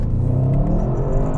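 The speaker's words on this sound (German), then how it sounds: "Jan, mach mal Launch Control" An Audi RS 7 Sportback pulls away hard under launch control, its engine a loud, steady roar with deep rumble and rising whir filling the whole moment, no voices over it.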